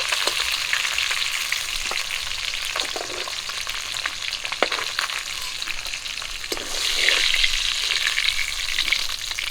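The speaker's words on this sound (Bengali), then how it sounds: "মাছের মাথাগুলো ভাজা হয়ে গেছে তুলে নেব" Catla fish heads frying in hot oil in a pan, a steady close sizzle with bursts of spatter and brief stirring clatter, growing louder in the final seconds.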